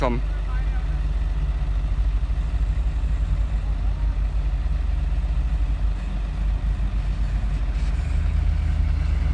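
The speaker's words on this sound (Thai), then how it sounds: "เครื่องยนต์ยังถือว่าแรง ยังถือว่าโอเคครับ" A Kobelco SK200-1 Mark 3 excavator over thirty years old runs while digging hard ground, its diesel engine a continuous, close, heavy rumble with a slight pulsing throughout.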